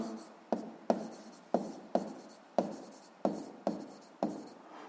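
Chalk or a marker writing on a board in a series of sharp strokes, each beginning with a tap and trailing into a short scratch, about eight in steady succession, close and quiet.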